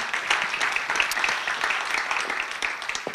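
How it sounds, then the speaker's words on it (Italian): Steady audience applause at a bank's social report presentation in Fano, Italy: a dense wash of many hands clapping at moderate volume, continuing evenly throughout without any voices on top. "un applauso mentre li accogliamo."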